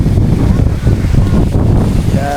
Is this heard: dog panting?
no